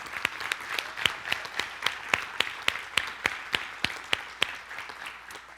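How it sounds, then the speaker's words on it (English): Audience applause at a church campus fifth-anniversary panel event: steady, fairly even rhythmic clapping from a crowd, moderately close, continuing for several seconds without voices. "Let's give him a round of applause"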